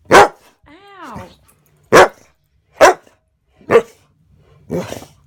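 A dog barks loudly nearby, five sharp separate barks spaced about a second apart, with a rising whine between the first two.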